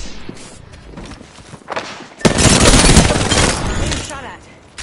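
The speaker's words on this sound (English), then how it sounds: "Look out! Grenade!" A grenade goes off in a video game firefight, a sudden loud broadband blast that lingers as a roaring burst for over a second after earlier scattered impacts and voices.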